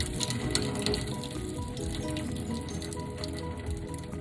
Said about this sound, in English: So now we're gonna flip it over and we're gonna strain it.